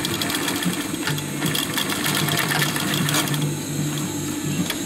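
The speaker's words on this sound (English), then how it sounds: "And you're going to do double stitching here." A sewing machine runs steadily while double stitching backpack fabric, a continuous close mechanical whir holding through the whole stretch with no talking.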